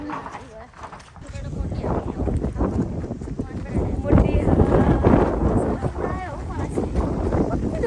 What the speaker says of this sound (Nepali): हावा चलेको क्या